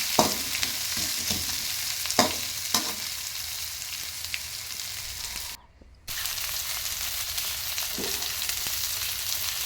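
Sliced big onions and dried red chillies fry in oil for egg rice, producing a steady close sizzle that cuts out briefly midway, with occasional stirring taps and scrapes throughout.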